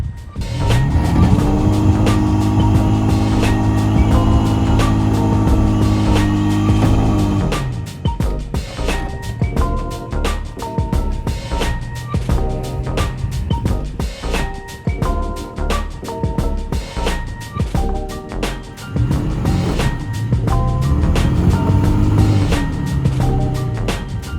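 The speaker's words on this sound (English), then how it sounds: "I'm gonna try to kind of do like a burnout and see if I can get the back tires dug down" A stuck 4x4 truck tries a burnout, its engine roaring and revving up and down loudly and close, surging repeatedly with tires straining before winding up again.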